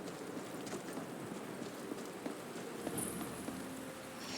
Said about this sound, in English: And it's raining, because of course it is.